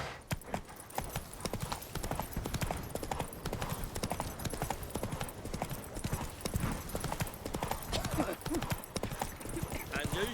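Roach the horse gallops in The Witcher 3, with rapid, steady hoofbeats pounding throughout alongside game sounds, and a voice speaks over the running hooves.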